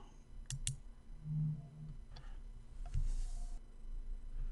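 Mouse clicks placing an order on a ProRealTime trading chart, a couple of sharp, quiet clicks near the start followed by fainter ticks over low background hum, with no voices.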